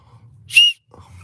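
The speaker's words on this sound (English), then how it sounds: "Let's just see if it whistles." A hand-carved wooden whistle gives one short, clear, high-pitched toot, sharp and close, after a quiet moment with faint handling sounds around it.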